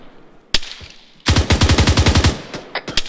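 Automatic gunfire from ARMA 3 during a platoon training battle on Bozcaada: a sharp isolated shot, then a loud rapid burst of about a dozen rounds in steady rhythm, followed by a few scattered single shots, with no talking.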